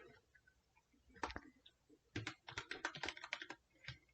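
Keystrokes on a computer keyboard while R code is typed, a soft scattered tapping that starts sparse and turns into a quicker, steadier run of close, fairly quiet clicks.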